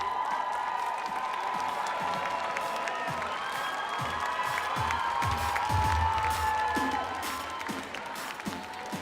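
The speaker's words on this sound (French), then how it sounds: "On peut les applaudir" A crowd applauds the team captains at an indoor sports event, with a steady wash of clapping, some cheering and a few shouts in the hall, staying loud throughout and easing off slightly near the end.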